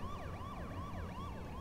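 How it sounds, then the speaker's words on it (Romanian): A police car siren wails in the H1Z1: King of the Kill video game, a fast repeating up-and-down sweep, steady and moderately close with no talk over it. "Mașini de poliție alea"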